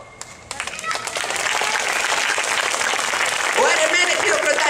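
Audience applause at a Karagiozis shadow puppet show staged by the Lyceum of Greek Women of Serres: dense clapping swells in after a brief pause and stays loud and steady, with voices mixed in.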